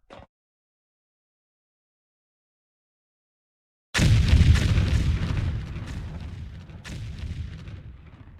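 A mountainside detonated in the factory game Foundry: after near silence, a sudden deep blast bursts out, then a long rolling rumble that slowly fades, with a second thump partway through, heard alone.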